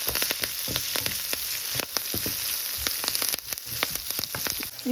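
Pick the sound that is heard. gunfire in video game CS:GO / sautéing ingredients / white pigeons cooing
sautéing ingredients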